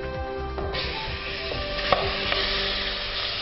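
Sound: lamb meat searing in curry oil

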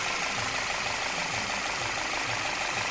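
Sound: car engine idling after start

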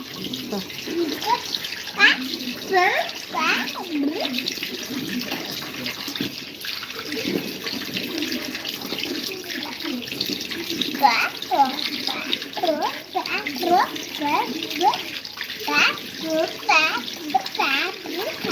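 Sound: water running from a tap while a child washes hands

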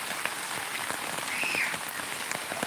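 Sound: heavy rain flooding around a house

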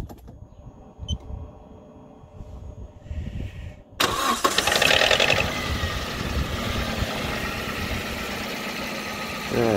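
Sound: car engine starting and idling

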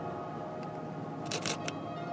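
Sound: camera shutter clicking during moonrise photography

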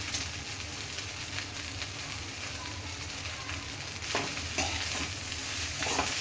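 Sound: stirring egg fried rice in hot pan

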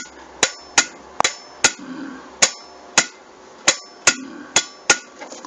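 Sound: electrical relay switch clicking when 220 V power is applied

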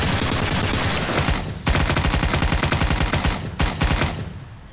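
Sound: gunfire in Garry's Mod video game

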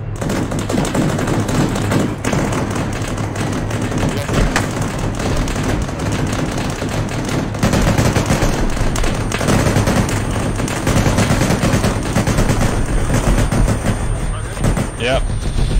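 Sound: gunfire in the video game Arma 3

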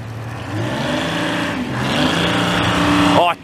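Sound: vintage Sicard snowblower with a loud Detroit Diesel V12

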